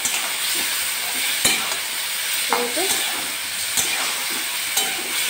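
Potatoes frying with spices in hot oil, a loud continuous sizzle with a few sharp clacks of a spoon stirring against the pan.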